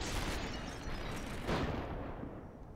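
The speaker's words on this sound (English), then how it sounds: "that round just impacted on the wall beside us" A bullet round from a gun strikes a mansion wall close by in the video game Superhot: Mind Control Delete, heard as a loud, dense burst of noise that swells around the middle of the clip and fades toward the end.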